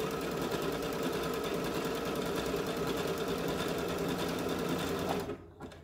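A sewing machine runs steadily, stitching a hem on silk fabric with a continuous loud whirring hum that stops abruptly near the end.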